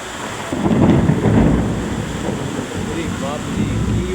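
Deep rumbling thunder over Kolkata rolls over steady rain and wind noise, loudest in the first half, then settling into a continuous downpour.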